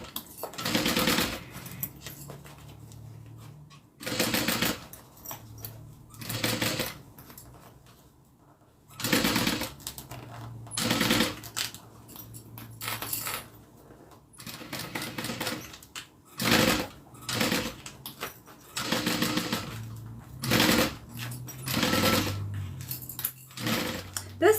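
A sewing machine stitches a zipper onto a mini zip-around wallet. It runs in repeated bursts of rapid mechanical clatter, some short and some several seconds long, separated by brief quiet pauses.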